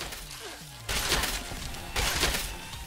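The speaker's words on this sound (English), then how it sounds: "Like a big blood explosion." Blood explosions burst in the Fallout 76 video game, heard as two loud, broadband splattering blasts about a second apart over quieter game ambience, with no talk.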